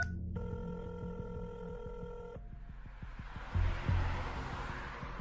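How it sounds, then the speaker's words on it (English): A telephone rings as a podcast sound effect, a steady electronic bell tone that runs for a couple of seconds before giving way to a softer hiss. "he sees his phone ringing that was sitting on the passenger seat"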